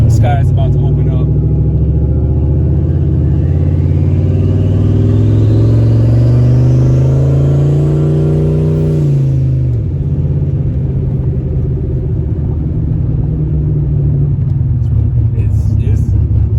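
Turbocharged Ford Mustang engine dumping a lot of fuel at part throttle, rumbling loudly and close, revving up in a long rising sweep before dropping back to a rough idle, with a voice talking over it.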